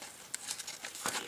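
Printable paper doll clothes for Ever After and Monster High dolls are folded into accordion pleats, giving a brief, close, soft paper crinkling with a few sharper creases.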